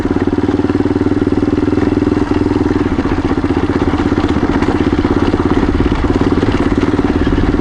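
A motorcycle engine, the bike ridden on a rocky trail, runs loud and close the whole time with a steady, throbbing low chug and some clatter.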